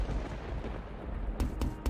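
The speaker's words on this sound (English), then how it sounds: "there was a loud banging on the door" Loud banging on a door in the visual novel game The House in Fata Morgana: three heavy, sharp knocks spaced close together, near and clear above a low rumbling background.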